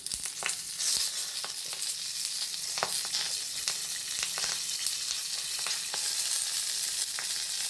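Fish fries in a pan with tamarind, a steady bright sizzle with scattered pops and crackles throughout, alone and fairly close.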